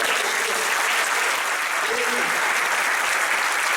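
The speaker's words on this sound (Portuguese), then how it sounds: "Então aplauda ao Senhor" A church congregation claps for the Lord during a sermon on marriage, a dense, even roll of clapping that carries steadily through the whole stretch with faint voices mixed in.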